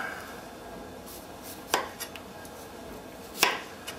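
Knife cutting through apples into slices for drying, heard as two sharp, isolated chops on a board about two seconds apart, close and fairly quiet over a faint background.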